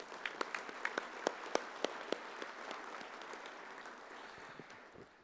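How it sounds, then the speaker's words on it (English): Room of attendees at an annual meeting gives a round of applause for the officer team, faint and steady clapping with a few sharper individual claps standing out, fading toward the end. "Let's give them all a round of applause."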